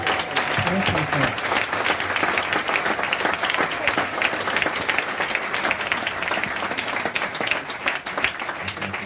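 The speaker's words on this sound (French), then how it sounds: "Applaudissez très fort pour le Seigneur." Vigorous applause from a church congregation at a testimony gathering fills the space, a thick, even patter of many hands sustained throughout with a few voices beneath.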